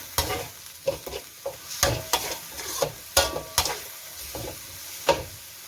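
Squid and minced pork stir-fried with fish sauce and sugar over raised heat for Thai basil stir-fry, a spatula scraping and clanking against the pan in irregular strokes over a soft sizzle.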